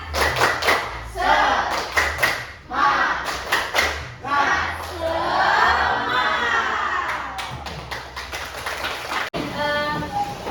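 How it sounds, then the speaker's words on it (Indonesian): A school class does the 'tepuk semangat' ice-breaking clap: sharp, rhythmic bursts of group clapping alternate with loud shouted chanting from the students, ending with a final sharp clap. "Kita ice breaking dulu, tepuk semangat."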